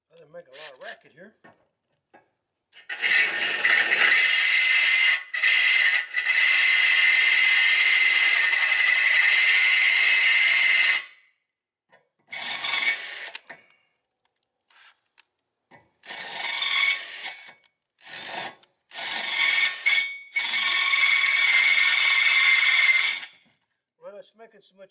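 A harsh, rattling power drill with a Ryobi copper oxide bit grinds through metal in several long bursts with short pauses, vibrating badly, the loud buzzing tone shaking unevenly throughout.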